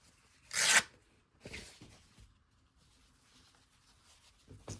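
Scissors cut through a fabric folio pocket, one loud rasping snip followed by a couple of softer cutting strokes and a final brief snip, close and with no talking.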